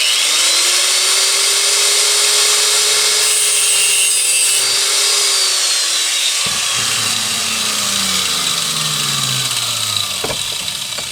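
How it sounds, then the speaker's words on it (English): An angle grinder cuts through the outer sheath of a motorcycle throttle cable during a hardtail bobber restoration, giving a loud, continuous high whine that shifts in pitch as it bites, heard alone. "I'm going to cut the outer off and pull it out first"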